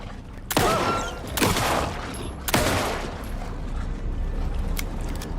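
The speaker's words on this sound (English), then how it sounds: "I have shot you in the head twice." Gunfire in the video game Alan Wake: three loud shots ring out in quick succession, each with a sharp crack and a decaying tail, followed by quieter game ambience.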